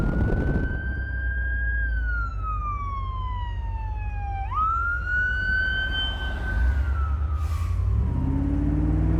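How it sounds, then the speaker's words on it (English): A fire truck siren wails loudly, sweeping up and down in pitch and shifting as it passes, over a steady rumble of road noise from a 1972 Chevrolet Corvette convertible. "Oh, fire truck. Hold on."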